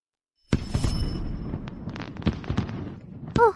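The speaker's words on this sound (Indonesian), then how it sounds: "Kembang api ungu ini sungguh memukau." Purple fireworks burst in a sudden loud bang, then a dense run of crackling pops and sharp reports follows for about three seconds, ending in a final louder crack with a rising whistle.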